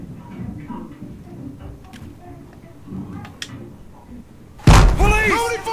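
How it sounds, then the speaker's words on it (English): A door is struck in the video game Battlefield Hardline: one loud, heavy thud near the end, following a stretch of murmured voices and ambient game sound. "He just knocked on the wrong door."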